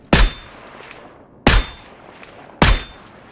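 Gunfire in the video game Stalker GAMMA, three sharp single shots spaced about a second apart, each with a ringing, decaying tail, loud and with no voices.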